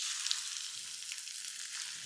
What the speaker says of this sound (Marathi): आता हा कांदा आपल्याला छान असा तांबूस रंगावर भाजायचा.